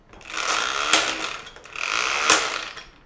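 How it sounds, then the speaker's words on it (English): An electric high-torque impact wrench, rated 380 newton meters, runs twice on a heavy-duty vehicle wheel, each burst a loud, buzzing hammering lasting about a second. "The impact wrench is very strong, high torque."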